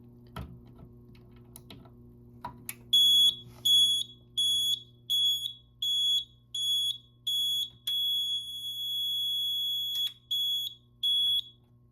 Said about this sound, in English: Each time a device is alarmed, the signals will sound for just a few seconds.